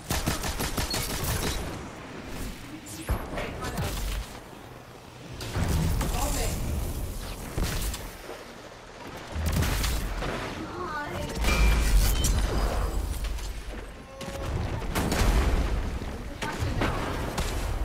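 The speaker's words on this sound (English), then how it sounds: "I got a machine gun" Heavy gunfire and explosions from the video game Destiny 2 play in dense, loud bursts of rapid shots and booms, with voices talking over the action.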